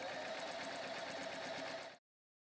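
A sewing machine top stitching the lining of a dress, running in a steady fast mechanical whir close up for about two seconds before stopping abruptly.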